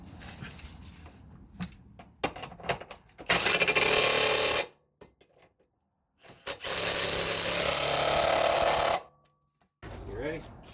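Loud bursts from an impact wrench tightening 16mm suspension bracket bolts on a Subaru during an Ironman 4X4 suspension install, two long rattling runs of a couple of seconds each, with shorter taps and talk between them.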